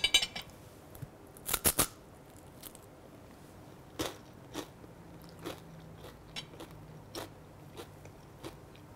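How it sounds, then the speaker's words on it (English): A sharp crunchy bite, then a series of softer, evenly spaced crunches as a dry cracker topped as a tuna canapé is chewed close to the mic. "now I'm going to take a bite that goes all the way down and get some of this cracker"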